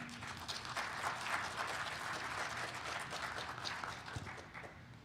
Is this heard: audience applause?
yes